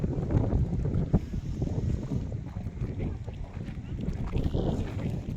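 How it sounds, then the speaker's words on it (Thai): Strong gusting wind buffets the microphone outdoors at Matsumoto Castle in cold weather, a steady rumbling roar with no clear pauses throughout. "ลมแรงมาก"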